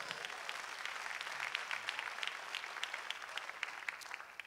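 Church congregation clapping hands in praise during a service, a soft, fairly distant patter of many claps with sharper individual claps standing out.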